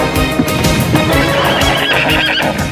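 A messenger's horse whinnies loudly over a steady, close clatter of hooves clip-clopping, the neigh and hoofbeats filling the whole short stretch with no voices.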